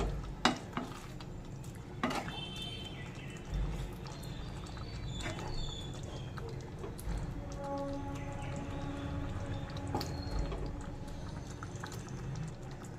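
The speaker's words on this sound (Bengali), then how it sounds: "এবার ভালো করে সব চিকেনের সাথে নেড়ে মিশিয়ে নেব" Chicken korma with cashew paste and fried spices being stirred in a pot: soft scraping and stirring with a low sizzle, a few sharp clinks near the start, steady and fairly quiet throughout.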